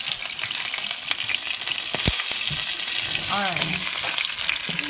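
A rabbit leg frying in a pan on a stove, with a loud, continuous close-up sizzle and crackle and a few sharp pops and scrapes, and no talking.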